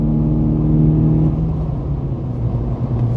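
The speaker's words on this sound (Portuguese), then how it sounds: "Esse barulho das TBI acelerando, rapaz, vocês não têm ideia." A Ford Focus engine with individual throttle bodies revs close by with a deep, throaty rumble, pitch rising then easing back, loud and continuous with no voices.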